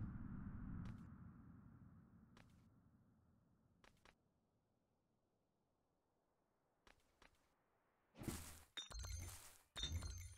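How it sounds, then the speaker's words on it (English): Glass shatters in the Return From Core video game, a loud crash followed by a second burst of breaking and tinkling near the end, after faint scattered clicks over a quiet background. "Now that sound effect makes it sound like I've a broken glass."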